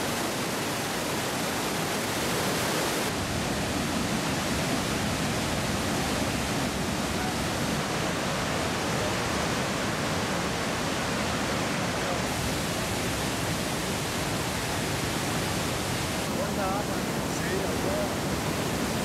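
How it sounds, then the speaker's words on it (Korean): Iguazu Falls in Iguazu National Park sends a massive volume of falling water down in a constant, dense roar that stays loud and unbroken throughout, with no voices. "가는 길 곳곳마다 다양한 각도로 떨어지는 폭포와 마주하게 된다."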